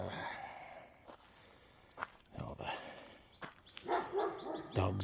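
Dogs bark outdoors in a few scattered, fairly faint bursts against quiet background noise.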